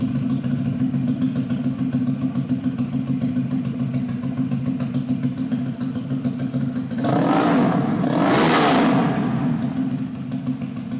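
A Regnancy 350cc American-style chopper motorcycle idles with a steady, loud rumble, then its engine is revved hard twice in quick succession, close by.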